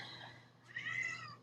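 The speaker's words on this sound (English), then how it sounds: "We have got a complaining cat." A pet cat named Gus meows in complaint indoors, one drawn-out, rising and falling call that swells after a quieter opening, close and clear with no talking.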